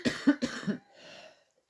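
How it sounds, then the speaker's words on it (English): Someone clears their throat in a quick series of four rough, close bursts, followed by a softer raspy exhale that fades out. "Gotta clear my throat."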